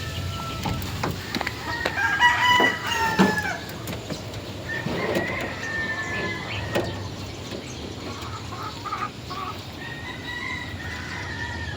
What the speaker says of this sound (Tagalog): Ito ang aming broodcock dito, yung 2-time winner na bulik hatch.